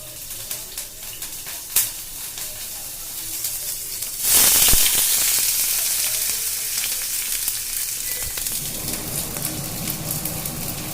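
Green chilies and onions fry in hot oil for peri peri Maggi noodles. A quiet crackle swells into a loud burst of sizzling as more food hits the oil, then a steady, close hiss carries on with scattered pops.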